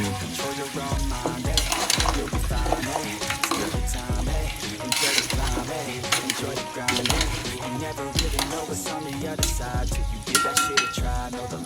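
A pot of pork ribs sinigang stirred over heat, busy clattering and scraping of a ladle against the pot over a constant bubbling sizzle, with music playing underneath.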